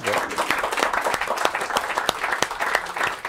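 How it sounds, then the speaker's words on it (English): An audience applauds a speaker on stage with steady, dense clapping and distinct individual claps standing out, fairly close and continuous. "Great hand clap, thank you."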